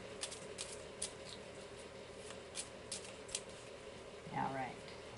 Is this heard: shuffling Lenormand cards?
yes